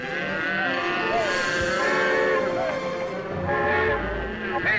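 A steam train whistle from a movie scene sounds in several long, wavering tones. Voices and other noise from the scene run underneath.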